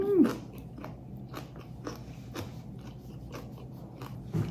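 Close-up crunchy bites and chewing on gwamegi with chili pepper dipped in chojang: a crisp bite at the start, then soft, irregular chewing clicks and a final louder crunch.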